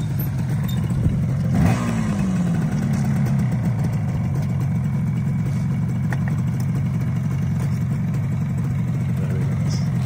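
A 1979 Suzuki X7 motorcycle running nearby, a steady low engine drone holding through the whole stretch with a short rise in revs early on.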